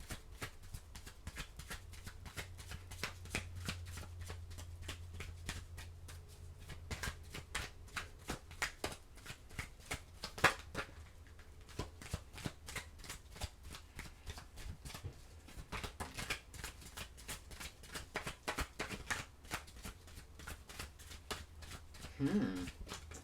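Tarot cards being shuffled, a long run of rapid, soft riffling and flicking bursts, close and fairly quiet, repeating with brief pauses throughout.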